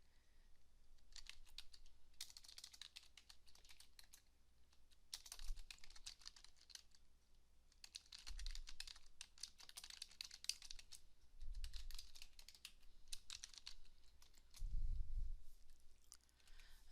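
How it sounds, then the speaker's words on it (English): Rapid typing on a computer keyboard, including presses of the enter and backspace keys, comes as close, light clicking in irregular bursts separated by short pauses, with no talking. "So when I hit enter here, I'm going to have to hit my backspace key to take me back."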